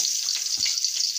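Cumin seeds, a bay leaf and green chilli sizzle in hot oil with a steady, bright hiss that fills the whole moment. There is a faint low bump midway and no talking.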